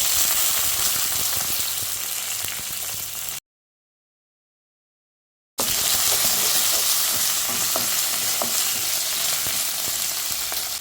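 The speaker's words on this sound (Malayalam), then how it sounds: "നമ്മൾ ഈ ബാക്കി വന്ന എണ്ണയ്ക്കകത്തോട്ട് കുറച്ച് പെരിഞ്ചീരകം ഇട്ട് കൊടുക്കുകയാണ്. ഇതിലേക്ക് കുറച്ച് ഉണക്കമുളക്," Fennel seeds and dried red chillies sizzle and crackle loudly in leftover cooking oil for a soya dry roast, a dense continuous frying hiss broken by a short gap of silence.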